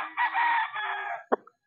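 A single white-legged rooster at a poultry farm crows loudly and nearby in one long, wavering call, followed by a brief sharp cluck at the end.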